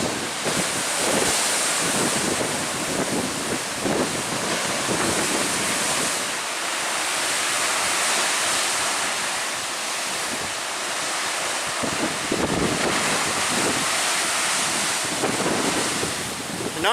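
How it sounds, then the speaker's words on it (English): Waves from Lake Superior crash below cliffs at Pictured Rocks, Michigan, in high autumn wind and rain, a loud continuous roar of surf with heavy wind buffeting the microphone throughout and no voices. "I can hear the waves from Lake Superior right now"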